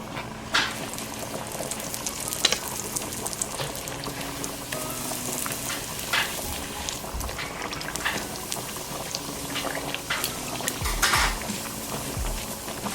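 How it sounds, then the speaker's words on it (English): Chiles and bread deep frying in a pan of hot oil, a steady dense bubbling sizzle with crackling pops, close and continuous. "here I have a pan with oil, and this is where we're going to fry our chiles and our bread"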